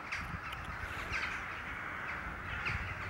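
Crows caw repeatedly from the trees, with many birds calling in overlapping, harsh cries that carry steadily over the whole stretch.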